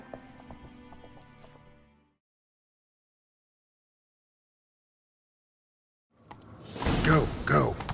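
Horse hooves clatter briefly at the start in The Witcher 3: Wild Hunt, then a long silence before a loud burst of galloping hoofbeats returns near the end.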